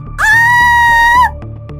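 A woman's loud, sustained high scream in a Hindi horror story, about a second long, rising sharply and cutting off abruptly over a low background rumble.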